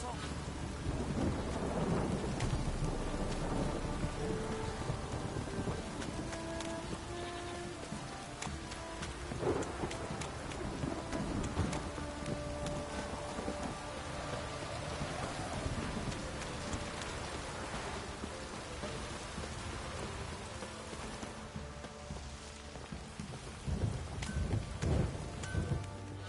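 Steady rain patters while thunder rumbles and cracks repeatedly through a stormy scene in The Witcher video game, a continuous downpour with rolling booms near and far.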